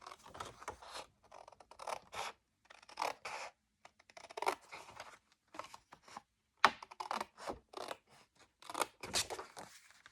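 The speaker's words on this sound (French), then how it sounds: "je reprends ma paire de ciseaux" Scissors cutting paper along a fold mark for a table decoration or candle holder, a quiet close series of crisp snips and brief rustles in irregular bursts with short pauses between them.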